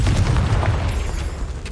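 A Confringo blasting curse in Hogwarts Legacy lands as a loud, close, booming explosion with a deep rumble that fades over under two seconds.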